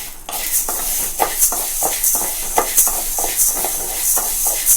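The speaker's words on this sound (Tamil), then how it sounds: "முதல்ல இந்த ஒரு கப் பச்சை பயிரை நல்லா வறுத்து எடுத்துக்கணும்" One cup of green gram (moong) dry-roasting in a pan gives off repeated dry rattling and shuffling bursts as the beans are stirred, close and fairly loud throughout.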